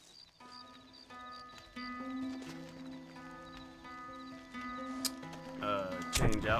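A horse clip-clops in the Red Dead Redemption video game, with quiet rhythmic hoofbeats under a steady musical score and tones, and a voice briefly breaking in near the end.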